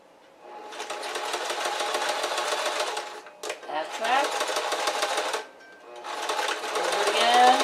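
A sewing machine stitches shorts in three long, fast, whirring runs, each lasting a couple of seconds, with brief pauses and some fabric handling between them.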